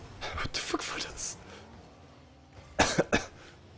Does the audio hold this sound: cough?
yes